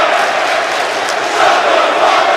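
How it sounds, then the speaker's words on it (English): Arena crowd in the WWE 2K18 wrestling game, a steady broadband roar of massed voices swelling slightly near the end, loud and continuous with no distinct talk. "Listen to the crowd."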